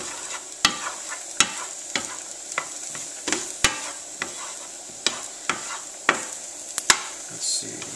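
Ginger stir-fries in a pan with a steady low sizzle, punctuated by regular sharp clacks and scrapes of a utensil tossing it, close and rhythmic with no talk.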